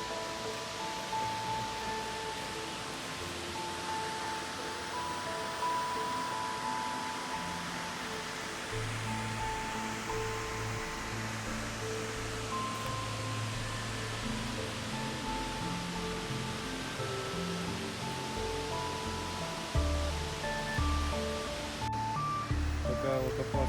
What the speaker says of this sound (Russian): Вот мы и добрались до водопадов.